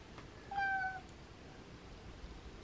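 A house cat gives a single short, clear meow nearby, quiet against a faint hum from a room where a stereo receiver is being tested, with no talking.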